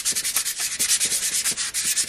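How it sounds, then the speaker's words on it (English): A piece of pipe insulation foam rubs pastel into paper, a close, steady scratchy swishing in quick rhythmic strokes with no voices. "instead of my finger, I'm going to go ahead and use a piece of pipe insulation foam. And so I'm going to rub it all in"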